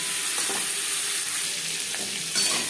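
Potato pieces fry with whole spices in hot oil for an egg and potato curry. A steady, close sizzle carries a few soft stirring scrapes, with no talking.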